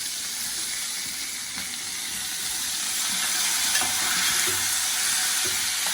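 Grated carrots frying in hot oil in a pan for a carrot and green chili relish, a steady loud sizzle with occasional stirring, no talking.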